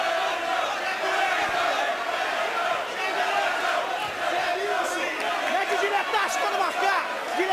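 A UFC 15 crowd from 1997 cheers on its feet during a fight, a dense, sustained roar of many voices with shouts and chatter rising and falling throughout.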